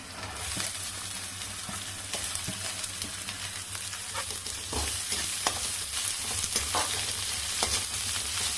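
Onion being stirred and fried in a pan with roasted green chili and garlic: continuous loud sizzling with scraping stir sounds and small pops, close up, with no talk.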